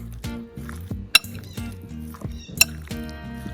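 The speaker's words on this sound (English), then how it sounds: "Now we are going to mix everything, and this marination is ready." Chicken marinade with chopped garlic being mixed in a bowl, with wet squishing and a pair of sharp clinks against the dish over a low background hum.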